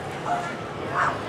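A show dog gives two short barks or yips about half a second apart, close by, with a low murmur of background noise.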